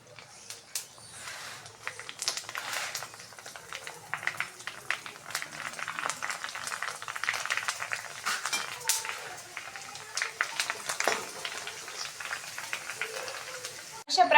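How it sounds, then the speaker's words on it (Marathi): Puris for pani puri deep-frying in hot oil, a soft continuous bubbling sizzle with light crackles, faint and steady throughout. "चला मी आता तेवढ्या सगळ्या तळून घेते."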